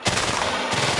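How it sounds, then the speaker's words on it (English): A TNT block explodes in the Minecraft video game: one sudden, loud broadband blast that hits at once and rumbles for about a second. "TNT explosion"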